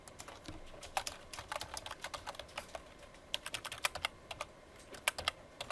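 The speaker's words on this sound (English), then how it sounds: "the reason I'm typing this in a notepad is so that we have future copy of it" Someone typing in a notepad on a computer keyboard, with irregular runs of crisp keystrokes at a steady pace over a faint background hum and no speech.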